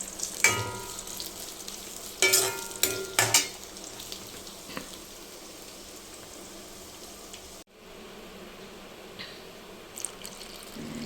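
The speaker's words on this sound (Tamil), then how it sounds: "இந்த எண்ணெயிலே பொரிக்கணுங்க அப்போ தான் டேஸ்ட் இருக்கும்" Steady hiss of oil deep-frying cauliflower beneath a few louder bursts of sizzling and clattering early on, then a quieter, continuous bubbling crackle.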